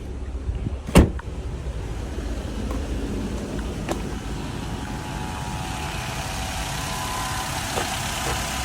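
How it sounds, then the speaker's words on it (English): A Vauxhall Corsa's engine runs steadily while driving, a low continuous hum heard from inside the cabin, with one brief sharp thump near the start and faint clicks later. "The car drives really good. Engine smooth, brakes are good"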